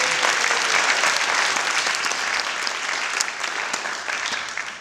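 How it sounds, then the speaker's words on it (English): Sustained applause from an audience gathered for an interfaith solidarity march event in Los Angeles, dense and steady throughout, easing slightly toward the end. "Let's give them a round of applause."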